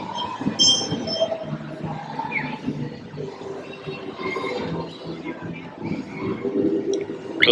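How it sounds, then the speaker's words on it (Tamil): A small trackless tourist train rolls along with mechanical rattling and occasional high squeals at Suntec City's holiday fair in Singapore, while a busy outdoor crowd murmurs in the background. "இந்த ட்ரெயினை ட்ராக்லெஸ் ட்ரெயின்னு சொல்கிறாங்க."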